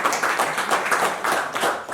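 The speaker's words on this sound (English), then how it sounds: "let's clap the hands" Hand clapping from a group during a talk, steady dense patter of claps, fairly close and even in level over a couple of seconds.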